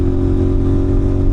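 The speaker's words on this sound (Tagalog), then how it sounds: "pinili ko po na yung tunog ng motor natin is bassy, dagundong, hindi ratatat na tunog lata" Deep, bassy engine note from a Kawasaki NK400/450NK-class big bike fitted with a slip-on exhaust, a loud continuous rumble held close up for just over a second with no talk.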